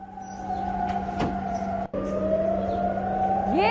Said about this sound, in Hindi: ये सायरन, दरअसल ये सायरन हमले की घंटी है,